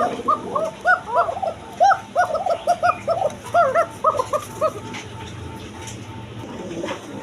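Bashiraj pigeons coo in a loud, close flurry of repeated rolling calls, dense for the first few seconds and then thinning out over a low background hum.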